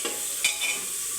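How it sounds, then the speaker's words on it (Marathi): Washed rice tipped into hot spiced tempering inside a pressure cooker for Maharashtrian masale bhat, giving a brief, soft sizzle and rustle of grains being stirred, close and quiet. "बघा असं तांदूळ टाकला"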